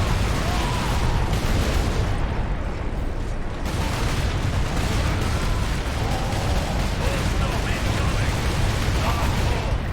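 A large gun fires in Warhammer 40K Space Marine, producing loud, dense, sustained blasting and rumbling that fills the whole stretch with heavy explosive noise.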